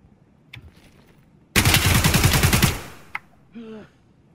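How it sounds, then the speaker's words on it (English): Automatic gunfire in the Escape from Tarkov video game, one rapid burst of about a second, loud and close, followed by a single sharp report and faint game sounds. "I just shot somebody."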